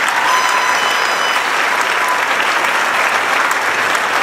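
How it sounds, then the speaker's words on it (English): A high school graduation audience gives a round of applause, a steady, loud roar of many hands clapping that continues without a break. "So let's give her a round of applause."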